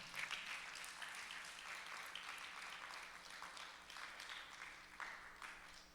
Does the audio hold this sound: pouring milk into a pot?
no